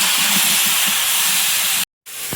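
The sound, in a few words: pumpkin frying in fish-frying oil with turmeric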